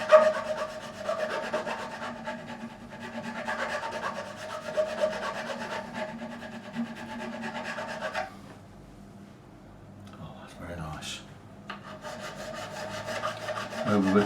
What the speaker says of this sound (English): This nice 3-cornered file should do it.